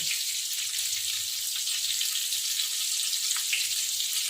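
Pieces of paneer tikka fry in hot oil, giving a steady, close, hissing sizzle that runs evenly throughout with no talking.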